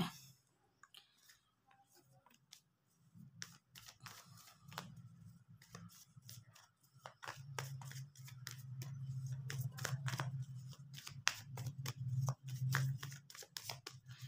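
Old tarot cards, several years old, are handled and shuffled close by in a run of crisp clicks and riffling snaps, sparse at first and then denser and steadier, with a soft low rustle under them.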